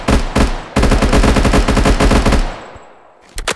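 An SMG in a Minecraft Bedrock mod fires a loud, rapid automatic stream of shots up close, then stops and its echo fades out before a couple of faint clicks.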